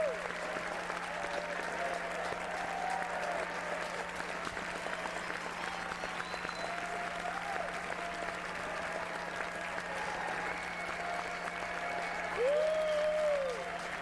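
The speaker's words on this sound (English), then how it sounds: "I definitely heard a woo in the stock applause sound that I'm using there" A stock applause sound effect playing quietly: a thin, steady patter of clapping from a crowd, faint and even throughout, with a steady background hum and a few brief whistle-like tones.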